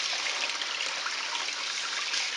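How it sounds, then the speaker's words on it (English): Tap water runs steadily into a bowl as diced chicken breast is rinsed until clear, a continuous close splashing stream with no pauses. "I normally would put it in a bowl like this and just rinse it until it turns clear"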